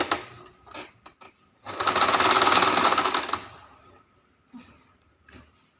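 Sewing machine stitching a folded strip of blouse fabric, a scattering of brief needle clicks and then one continuous rapid chattering run of about two seconds, followed by a few isolated ticks.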